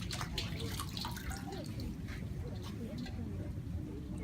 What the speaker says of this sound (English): Running water makes a world of difference.